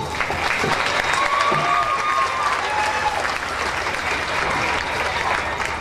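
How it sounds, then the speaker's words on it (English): A crowd at a county fair applauds the 2004 queen candidates, a sustained mass of clapping with a few whoops and cheers rising briefly over it, steady and close. "Another round of applause for those young ladies"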